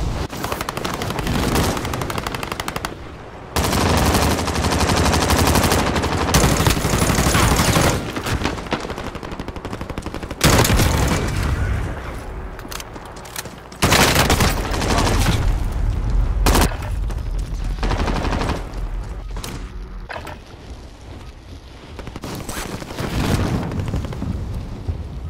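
Sustained automatic rifle fire from an XM4 in Call of Duty: Modern Warfare, with loud dense bursts broken by short gaps and heavy booming impacts, running for the whole stretch with no talking.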